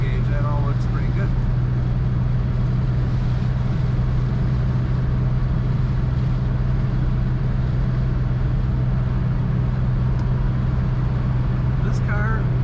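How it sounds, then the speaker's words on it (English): A 1963 Chevrolet Corvair Monza 900 Spyder convertible cruises on a highway, its steady low engine drone and road rumble constant throughout, with a few faint brief sounds over the top and no one speaking. "This car runs nice and smooth. We have a nice feel on the highway here."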